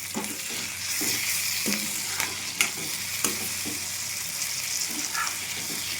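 Capsicum sabzi sautéed and stirred in a pan, with a steady broadband sizzle and occasional scraping spatula strokes, close and moderately loud with no talking.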